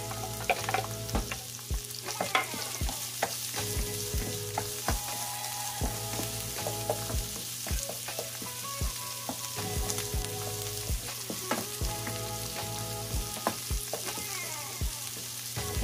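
Garlic sizzles steadily in a lightly oiled pan as the base for beef giniling menudo, with close stirring scrapes and clicks of a utensil against the pan repeating over the frying hiss.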